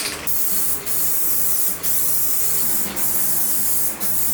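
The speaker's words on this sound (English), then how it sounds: "First thing to spray, adhesion promoter," Adhesion promoter hisses steadily from an aerosol spray can onto the plastic of a cheap R/T Charger, a continuous close spray broken by a few brief pauses between passes.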